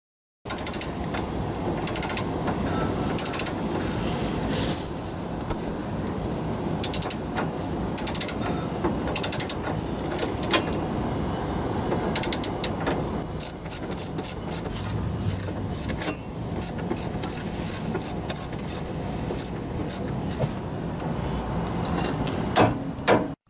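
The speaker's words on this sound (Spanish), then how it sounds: "Ahora vamos a poner la tuerca. Vas a apretar esto a 76 libras-pie." A ratchet wrench clicking steadily while a nut is tightened on a ball joint of a 1997–2004 Ford F-150, with repeated bursts of sharp ratcheting over a constant low garage hum.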